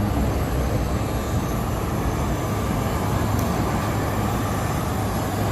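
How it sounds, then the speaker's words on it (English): A Janet plane, an Area 51 employee shuttle aircraft, flies over the Las Vegas Strip, heard as a steady, loud, broad rumble that drones on unchanged with no voices. "that's an Area 51 plane"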